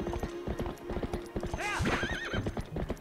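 A horse's hooves clip-clop in a quick, steady rhythm as the horse gives a loud, wavering neigh partway through, in the video game The Legend of Zelda: Twilight Princess.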